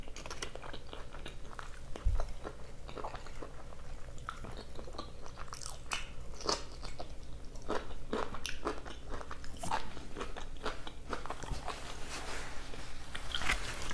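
Carne asada fries bitten and chewed up close, with crisp crunchy bites and wet chewing in an irregular rhythm, steady throughout with no talking.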